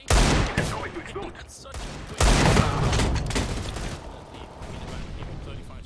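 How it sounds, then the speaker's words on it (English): A bomb explodes in a video game with a loud booming burst, then a second heavy blast, both trailing into sustained rumbling gunfire-like noise that slowly fades. "They will not stop the bomb now. It is going to explode."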